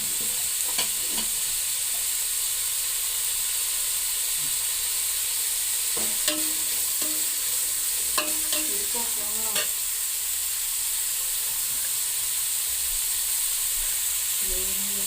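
Ghee sizzles steadily as a grandmother-style pulao is stir-fried, a loud continuous hiss with scattered spoon scrapes and taps against the pan, and a few quiet voice fragments in the background.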